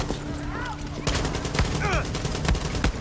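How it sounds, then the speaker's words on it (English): Rapid gunfire and explosive pops from a grenade launcher in the video game Far Cry 6, loud bursts over a steady game soundtrack with a few sharp blasts in quick succession. "Left button, pop a grenade launcher."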